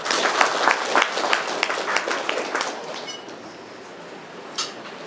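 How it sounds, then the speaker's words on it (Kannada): An audience at a student felicitation ceremony for PUC rank holders in Tumakuru claps in a dense burst of applause that gradually thins and fades over several seconds. "ನೀವೆಲ್ಲ ಚಪ್ಪಾಳೆ ಹೊಡಿಬೇಕು"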